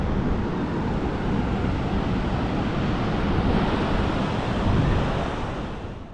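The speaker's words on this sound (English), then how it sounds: "We're back at the beach." Ocean waves wash onto a beach in a broad, steady roar of surf, with wind noise buffeting the microphone throughout and no voices.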